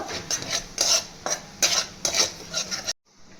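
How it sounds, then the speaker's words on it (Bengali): Chopped garlic and cumin fried in butter for Hyderabadi paneer are stirred in a pan: about six rhythmic scraping strokes of a spoon on metal over a light sizzle, close up, stopping abruptly near the end. "রসুনটা ভালো করে ভেজে নেব।"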